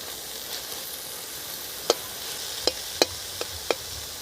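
Spinach and other leafy greens cooking down in a pan, a faint steady sizzle with a handful of sharp spatula scrapes and knocks against the pan in the second half.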